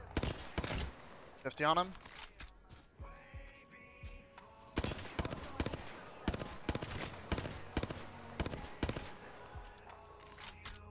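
Repeated bursts of gunfire in Apex Legends, including the Hemlock rifle, sharp shots in rapid clusters across the whole stretch, mixed with in-game effects while players talk over the action.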